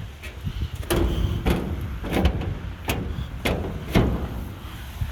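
A metal bin enclosure door swings shut and latches with a series of loud clanks and thuds, several sharp impacts in quick succession, close by with no talking.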